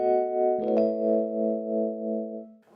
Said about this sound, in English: I'm going to be using the Mark I stage piano.